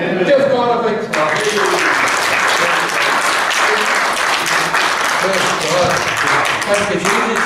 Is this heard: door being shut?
no